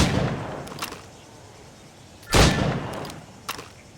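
Gunshots fired at targets in Assassin's Creed Rogue: one loud, sharp crack in the middle, with fainter shots before and after against quiet outdoor ambience.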